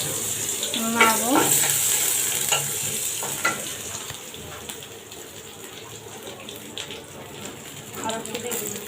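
Garlic frying in hot oil while being stirred in a pan, a steady sizzle under occasional scraping strokes, loudest at the start and easing slightly, with a voice speaking briefly early on.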